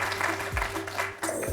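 A studio audience applauds a contestant after a quiz show match, a short burst of clapping close by, with a brief thump partway through.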